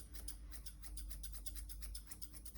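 Detail scissors snip rapidly and rhythmically while trimming a Cocker Spaniel's coat, giving a close, quiet run of crisp metallic clicks with no talking.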